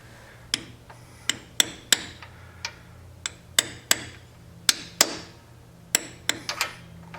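Irregular taps drive a leaking transmission seal into place with a socket struck by a hammer. The crisp, light knocks come in uneven clusters against a quiet background hum, close by and fairly faint.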